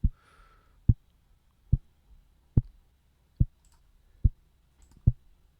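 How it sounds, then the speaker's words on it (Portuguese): A kick drum synthesized with MiniSynth in FL Studio thumps seven times in a steady, evenly spaced pattern, each hit a short, punchy low boom. A brief faint tone sounds near the start, and there is no talking. "aqui nós temos criados aqui o som de bumbo"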